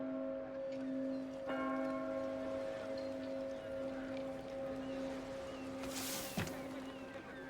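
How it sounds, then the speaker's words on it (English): A deep bell rings with a sustained, humming tone ahead of a public hanging in an Assassin's Creed game, struck twice over a low ambient bed, with a brief hissing swish near the end. "The bell! It's starting!"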